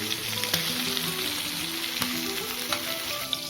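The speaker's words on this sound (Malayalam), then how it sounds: "നന്നായിട്ടൊന്ന് വേകുന്നത് വരെ നമുക്കിതിനെ ഒന്ന് ഫ്രൈ ചെയ്തെടുക്കേണ്ടതായിട്ടുണ്ട്." Chicken pieces frying steadily in hot oil in a pan for a Kerala-style chicken pollichathu, a dense, continuous crackling sizzle with scattered sharper pops, close and fairly loud, with faint hums underneath and no voices.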